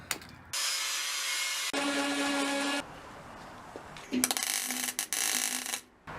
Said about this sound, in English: So I need to grind all this off and replace this section.